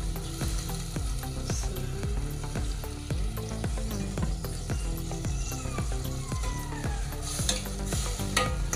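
Adobong sitaw, string beans cooked with dried fish, sizzles in a hot pan as vinegar goes in, with rhythmic scraping stirs repeating roughly every half second over a constant loud frying hiss, close up.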